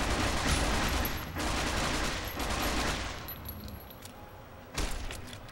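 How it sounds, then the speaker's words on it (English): Sustained submachine gun fire in Fallout: New Vegas, a dense, loud rattle of rapid shots that runs for several seconds, eases briefly, then returns in a sharper burst near the end. "Submachine gun it is."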